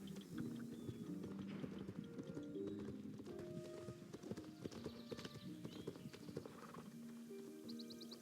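Horse hooves in the Star Stable video game, a steady clip-clop rhythm throughout, with birds cooing and chirping and an occasional neigh over a musical backdrop.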